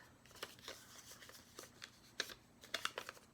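Paper being folded and creased for an origami frisbee, giving soft, close crinkles and sharp rustles in short bursts with a few louder snaps near the end, fairly quiet overall.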